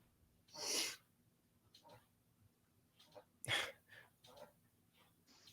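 Two sharp sneezes, a few seconds apart, each with a quick breathy burst, with soft breaths and faint sounds between them.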